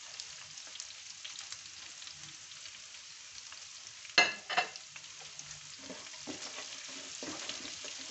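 Pork ribs with garlic frying in a pan as a spoonful of flour is added: a soft, steady sizzle throughout, broken midway by two sharp clatters as the food is stirred, with no voices.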